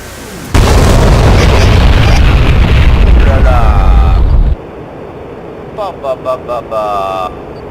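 A GBU-12 laser-guided bomb detonates on a radar station in a Mirage 2000C flight combat game, one loud, sustained blast rumbling for about four seconds before cutting off, followed by quieter cockpit tones.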